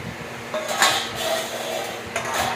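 Rice served onto plates at home, a few close clinks and scrapes of a serving spoon against dishes in short bursts.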